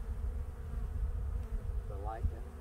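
Honey bees buzz in a low, continuous drone around hive 6 as foragers return carrying pollen, with a brief louder pass near the end.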